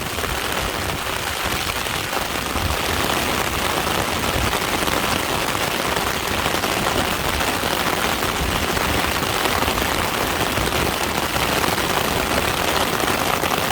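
Heavy rain pours down steadily during a fishing outing, a dense, continuous hiss of drops drumming on surfaces that stays loud and even throughout, with no talking.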